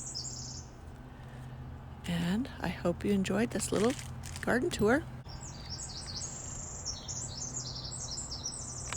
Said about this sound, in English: And you hear the birds singing to me.